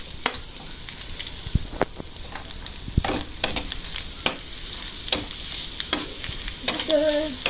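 Garlic and then onion sautéing in a pan for Filipino bopis, a steady oily sizzle broken by sharp clacks and scrapes of a spatula stirring against the pan, close up with no talking.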